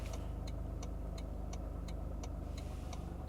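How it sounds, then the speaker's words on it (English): Turn signal of a 2026 Toyota GR Corolla ticking in a steady, even rhythm, about three clicks per second, soft and clear over a low idling engine hum inside the cabin. "like the turn signal sound"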